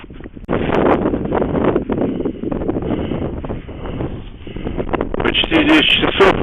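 Strong wind gusts buffet the microphone beside the Karabulak river in Pavlodar region, a continuous roaring rumble that rises and falls, with someone speaking over it.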